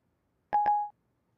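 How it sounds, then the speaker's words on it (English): An iPhone 3GS dials a number by voice control, giving two quick DTMF keypad tones, the second running into a short held tone, clean and alone against silence. "I can also dial a phone number like this."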